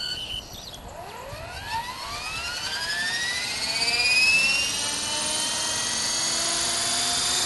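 A Blade 400 RC helicopter's rotor spools up from low to half throttle, a rising whine climbing steadily in pitch over several seconds before settling into a steady, loud hum, with no talking.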